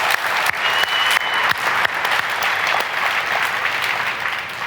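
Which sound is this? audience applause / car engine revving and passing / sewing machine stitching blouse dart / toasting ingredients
audience applause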